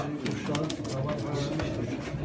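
Pigeons coo softly in the background at a pigeon auction beneath people talking nearby.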